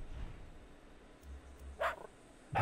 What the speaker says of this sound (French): je comprends pas les aboiements